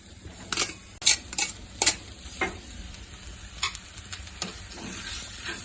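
Macaroni pasta and chicken masala are stirred in a pan, a spoon clinking and scraping in a handful of quick knocks over a soft, continuous sizzle, heard close with no talking.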